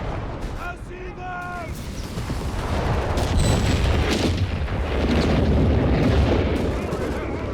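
Howitzer artillery in the Company of Heroes 3 strategy game, heavy booms and battle rumble building into a dense, continuous barrage, with a commentator talking over it.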